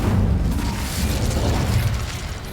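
An Incendio fire spell erupts in a video game, a loud sustained fiery boom and crackling roar that fills the moment without any talking.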